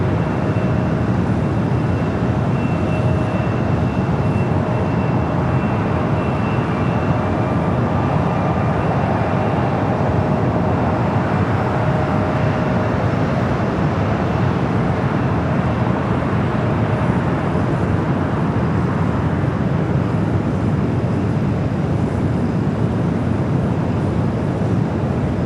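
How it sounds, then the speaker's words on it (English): An Airbus A321neo pushes back from the gate at LAX, a constant airport rumble with a faint high engine whine running evenly throughout, no talking. "It's an A321 Neo now pushing back."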